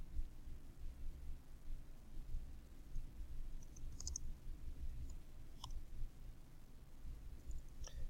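A computer mouse gives a few sparse, faint, isolated clicks over a quiet low background hum.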